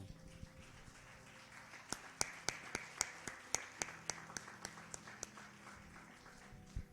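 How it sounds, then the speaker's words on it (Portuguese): Congregation clapping during a church service: a run of roughly fifteen sharp, fairly evenly spaced claps, moderately faint, tapering off near the end. "Vamos aplaudir o Senhor"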